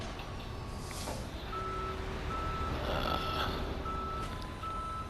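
Tow truck reversing in the Police Simulator game, repeated evenly spaced electronic beeps over a steady low engine rumble, moderately faint.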